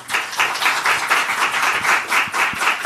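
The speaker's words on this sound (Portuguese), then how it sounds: "Uma salva de palmas para a Juliana." A short burst of audience applause at a health-sector debate forum, steady and fairly close, with bright clustered claps and no talk over it.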